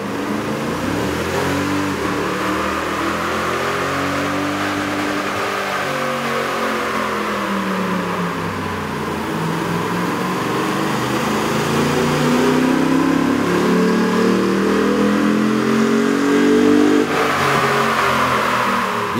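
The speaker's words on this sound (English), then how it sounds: "With the air intake installed, we ran the vehicle on the dyno to test the sound comparison versus the stock intake." A Toyota Tundra 4.6L V8 engine with a K&N air intake revs continuously on a dyno, its pitch sweeping up and down in long waves, loud and close with no voices.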